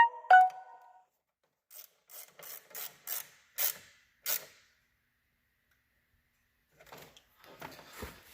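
Bolts on a Cummins CCV filter cover are turned by hand, giving a string of short, crisp ratcheting clicks in separate bursts with pauses between them. A sharp knock opens the sequence and faint scraping handling noise follows.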